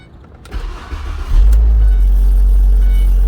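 A 2012 Ford Transit van with 209,000 kilometers cranks briefly and catches, settling into a loud, steady low idle close by with no talking.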